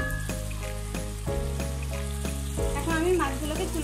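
Catfish pieces sizzle steadily in hot oil in a pan, a dense crackling fry with scattered pops and a soft scrape or stir partway through.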